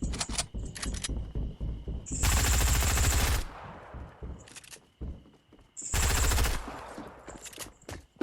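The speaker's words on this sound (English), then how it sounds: "I hear another guy shooting around" Gunfire in the video game Fortnite: short bursts of shots, then two long, loud sustained automatic volleys, each followed by quieter clicks and clatter, all close and without talking.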